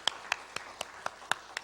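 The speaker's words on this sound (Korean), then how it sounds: "우리 찬양대를 위해서 격려와 감사의 마음으로 박수 한번 드리겠습니다." A church congregation claps for the choir during a Sunday service, about seven sharp, evenly spaced claps that sound faint and sparse rather than full applause.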